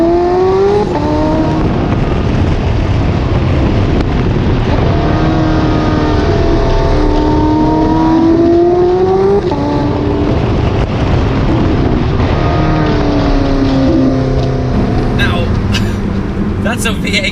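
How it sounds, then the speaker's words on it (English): A Porsche 918 Spyder's racing-developed V8 engine revs repeatedly, its tone sweeping up and down through gear changes at loud, close range, with a person talking throughout over the engine. "That's a Porsche racing developed V8 engine."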